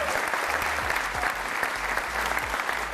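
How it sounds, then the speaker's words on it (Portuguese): A studio audience on the Portuguese game show The Floor bursts into steady, dense applause that holds for the whole stretch, with no talking over it. "Um aplauso para a Filipa!"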